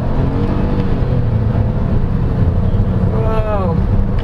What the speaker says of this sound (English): sport mode, you can feel the car more eager to move forward now